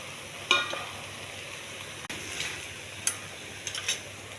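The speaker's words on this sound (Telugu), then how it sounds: "వేగించి పెట్టుకున్న మక్కాను వేయాలండి." Fried makhana is tipped into simmering curry gravy in a pan. A quiet background sizzle is broken by a few sharp clattering drops and stirring scrapes, spaced unevenly, and no one speaks.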